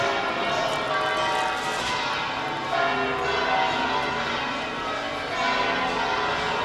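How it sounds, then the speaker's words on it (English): Church bells in Seville, Spain ring continuously with a loud, dense clangour of overlapping strokes filling the whole stretch, no voices heard. "The bells are crazy."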